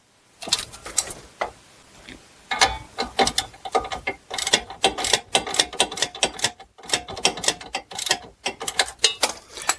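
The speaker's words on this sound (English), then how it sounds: "So we'll take a 15 mil ratcheting wrench, then just put your 7 mil here on the back side." A 15 mm ratcheting wrench turns the nut on a sway bar link of a Buick Enclave, Chevy Traverse or GMC Acadia, clicking in rapid close bursts with short pauses between strokes.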